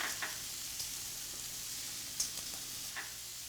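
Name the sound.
shallots and garlic sizzling in olive oil, stirred in a pan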